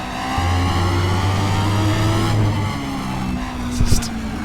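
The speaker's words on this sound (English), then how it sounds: "you've got that lovely Judd V8 in the back," A Judd V8 Formula One engine mounted behind the driver of a race car in RaceRoom Racing Experience, a steady loud mechanical drone that dips and recovers briefly near the end, with no talking.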